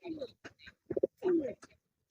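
Teddy pigeons coo nearby in a short burst of low, throaty, warbling calls, close and fairly quiet, with a few soft wingless murmurs between coos.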